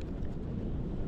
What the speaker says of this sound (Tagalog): Lumakas na naman yung hangin.